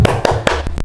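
A group claps a quick rhythmic tepuk semangat cheer indoors at a marriage guidance session, several sharp close claps in a short patterned burst.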